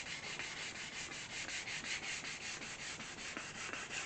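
Sandpaper is rubbed by hand across wood coated with a diluted shellac finish, making quick rhythmic back-and-forth scratchy strokes, close and steady, with no voices.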